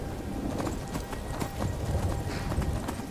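Horse hooves clip-clop steadily in the video game Skyrim, a continuous rhythmic trotting that stays close and moderately loud, with no talk over it.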